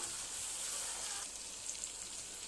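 Gram flour dish ingredients cooking in a pan, a soft, even sizzle with light crackling held at a low, steady level, no talking.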